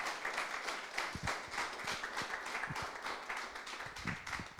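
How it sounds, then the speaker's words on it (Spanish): A church congregation applauds steadily at a Spanish-language service, many hands clapping in a dense, continuous patter with no one speaking. "Dales ese aplauso fuerte al Señor en esta mañana"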